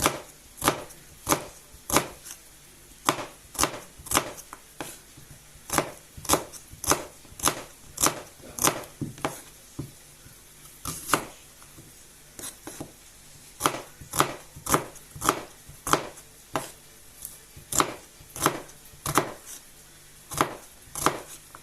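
A knife chops onions on a board in steady, crisp strokes, with dozens of sharp, evenly spaced cuts close up. A brief pause comes midway before the rhythm resumes, with no talking.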